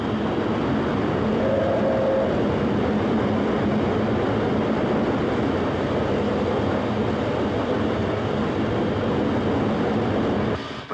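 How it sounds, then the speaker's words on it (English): The Elizabethan Express steam train picks up speed on track through Newcastle over the Tyne, a dense, steady rolling roar of wheels and carriages that holds loud throughout before cutting off; no voices. "the train picks up speed on the track through Newcastle City and over the Tyne"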